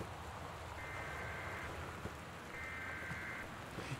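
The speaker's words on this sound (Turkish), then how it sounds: "Gerçekten dışarıda yağmurun yağması" Steady rain patters outside at a distance in the game Gone Home, a soft constant hiss with faint tonal chimes from the game drifting in twice.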